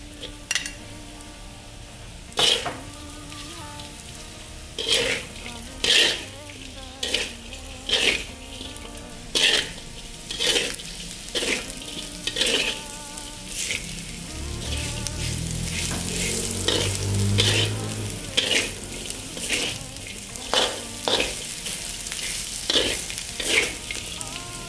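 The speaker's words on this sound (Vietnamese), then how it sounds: "mình sẽ cho tỏi vào đây khoảng một muỗng canh" About a tablespoon of garlic fries in rendered pork fat, a soft steady sizzle punctuated by a series of sharp spatula taps and scrapes against the pan, with a fuller burst of frying midway.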